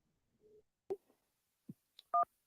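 Telephone keypad tones on a radio show's phone-in lines, a short sparse run of beeps of differing pitch, the last a loud two-tone dial press, with no talking.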